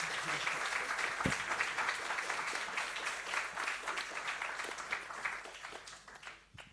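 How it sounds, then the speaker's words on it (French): Sustained audience applause closing a round-table panel on funding and support for startup projects, dense and steady throughout, with faint voices underneath, thinning out near the end. "On peut vous applaudir."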